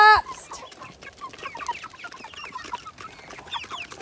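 Meat chickens in a pen give off a busy chorus of short clucks and chirps, steady and overlapping, at moderate distance with faint background noise and no talking.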